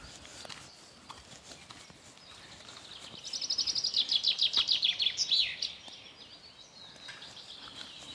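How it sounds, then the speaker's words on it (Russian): A bird sings a quick, bright trill of rapidly repeated notes for a few seconds near Lake Peipus, standing out over a quiet outdoor background with occasional faint chirps. "Ой, как птицы поют."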